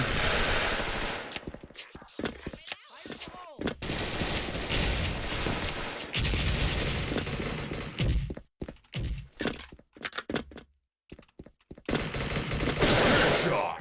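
Tiger Galil rifle gunfire in a first-person shooter video game, with loud rapid automatic bursts and dense sustained firing, brief gaps and single cracks between, and faint talk underneath.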